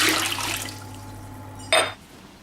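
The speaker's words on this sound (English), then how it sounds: "Let's pour this water out." Water poured out of a container, a short splashing burst near the start and another brief pour toward the end, fairly quiet over a steady low hum.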